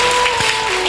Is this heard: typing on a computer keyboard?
no